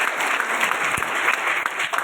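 Audience applause at a Mi Lifestyle Marketing business meeting: brisk, dense clapping from a crowd, steady and fairly loud throughout the short burst.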